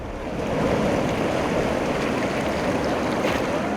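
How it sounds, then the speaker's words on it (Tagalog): Rushing, churning water roars steadily and loudly, a dense continuous swirl of a fast whirlpool current with a faint wind-like hiss on top. "Para ka raw hinihigop ng tubig sa bilis ng taglay nitong agos."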